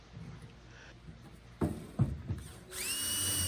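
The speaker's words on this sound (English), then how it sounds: "drilling out the majority of the rivet, ensuring not to enlarge the holes" A drill bores out old aluminum rivets on a 60-year-old aluminum boat, giving several short whirring bursts followed by a sustained high-pitched spin near the end, close and fairly faint.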